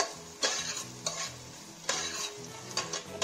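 Tablespoon of garlic paste frying in a pan for sweet and sour Maggi noodles: a soft, steady sizzle broken by a few scraping stirs of a spoon, faint, with no talk.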